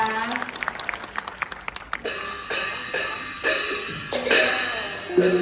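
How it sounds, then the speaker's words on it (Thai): Audience applause at a Thai Victory Drum (klong sabad chai) performance in Chiang Mai, scattered claps at first building into a fuller round of clapping, with someone speaking over the start. "ขอเสียงปรบมืออีกครั้งหนึ่งนะค"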